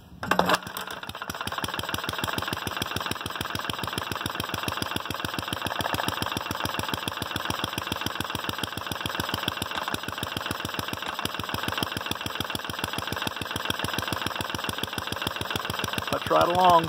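A 1937 Briggs & Stratton Model WM small engine, freshly serviced and fitted with a homemade muffler, catches after a brief start and settles into a loud, rapid, even putter that runs on steadily close by.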